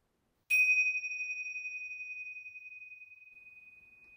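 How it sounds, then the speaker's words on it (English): A meditation bell is struck once and rings out alone in a quiet setting, with a clear pure tone that decays slowly over several seconds. "In a moment, you will hear a bell"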